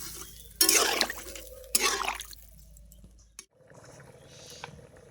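Liquid poured into a pan of fish curry made with fresh sol fish, two loud splashing pours followed by quieter bubbling and clinking in a home kitchen.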